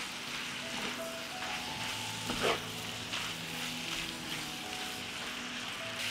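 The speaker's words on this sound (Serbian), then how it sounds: "Sve ću ovo promešati i pržiti." Low, even crackling sizzle of shredded sauerkraut frying in a pan, with one brief scrape of stirring midway; quiet and continuous, no speech.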